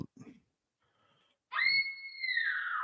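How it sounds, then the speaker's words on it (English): A few faint breathy sounds, a pause, then a long high shrill scream from the Halloween II (1981) trailer that rises sharply and holds for over a second, slowly trailing off. "Did you hear the scream?"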